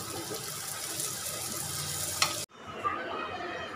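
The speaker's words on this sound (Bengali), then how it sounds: "এভাবে একটা একটা করে সবগুলো আমি ভেজে নেব" Puffed luchi sizzle in hot oil in a kadai, a steady hiss with faint stirring, cut abruptly near the end and then a quieter frying hiss.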